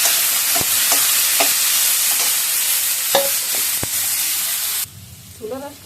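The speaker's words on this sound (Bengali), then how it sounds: "এই তো পেঁয়াজটা ভাজা হয়ে গেছে, এই যে সবজিগুলো এগুলো করে নিচ্ছি।" Mixed vegetables stir-fry with already fried onion in a hot pan, a loud continuous sizzle with spatula scrapes and taps, then the hiss drops away abruptly near the end, leaving quieter kitchen sounds.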